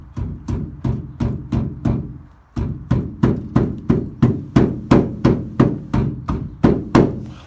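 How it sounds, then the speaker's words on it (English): A hammer strikes a painted car body panel in a steady, even rhythm, over a dozen close, ringing taps with one brief pause partway through. "the best way to hammer something that has paint on it is to do it like this"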